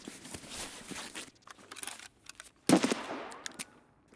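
Escape from Tarkov full-auto gunfire sounds in short rapid bursts, a sharp close volley near the end standing out over quieter crackling game ambience.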